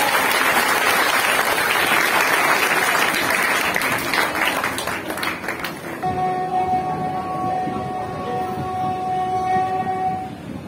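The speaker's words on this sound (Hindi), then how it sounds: "जोरदार तालियों से बच्चों का उत्साह" Audience at a Dussehra skit by school children applauds loudly with dense clapping for about six seconds, then it fades and sustained tonal music takes over.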